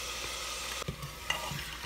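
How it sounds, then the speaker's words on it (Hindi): Mutton pieces frying with garlic ginger paste in a pot, a soft steady sizzle with a couple of sharp stirring scrapes and clinks, no voices. "इसको मैं जब तक लहसुन अदरक के साथ भूनूंगी जब तक लहसुन अदरक की स्मेल जो है वो ख़त्म ना हो जाए।"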